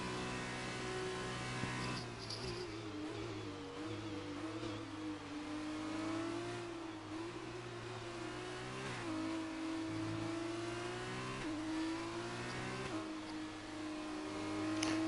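In the F1 2019 video game, Formula 1 cars trail a safety car at the Mexico circuit, their engines whining faintly and evenly with gentle pitch swells as they cruise in a line.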